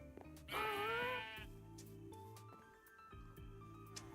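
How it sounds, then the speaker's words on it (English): In a Minecraft world, a sheep bleats once, loud and wavering, over soft background game music with tonal notes. "there's a sheep"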